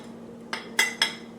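A spoon or whisk scrapes and clinks against a pan while flour is stirred into melted butter for a macaroni and cheese roux: three short, bright strokes, close and fairly loud, over a faint low hum.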